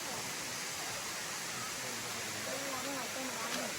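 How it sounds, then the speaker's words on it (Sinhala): Bambarakanda waterfall, the tallest in Sri Lanka, gives a faint, steady hiss of distant falling water. A few brief tonal sounds drift over it near the end. "මේක තමයි ලංකාවේ උසම දිය ඇල්ල කියලා"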